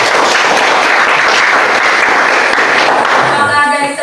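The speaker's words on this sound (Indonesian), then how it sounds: "kita berikan tepuk tangan untuk kelompok ini" Loud, dense applause from a classroom audience for a group that has just finished presenting, sustained clapping that fills the space and fades slightly at the end.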